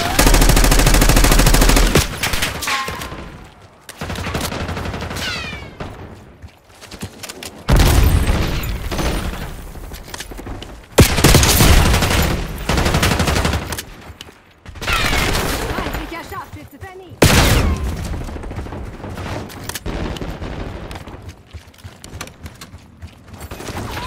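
Call of Duty Black Ops 6 gunfire on the Warhead map: repeated loud bursts of automatic weapon fire with booming impacts, arriving in waves across the clip, with someone talking between and over the shots.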